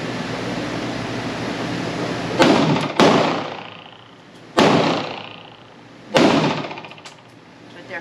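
Four sharp, loud pistol shots from a PSA 5.7 Rock, spaced about a second or more apart, each with a short echoing decay at an outdoor range.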